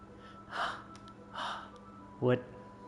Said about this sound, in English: A sharp inhale, like someone is sucking the air through their teeth.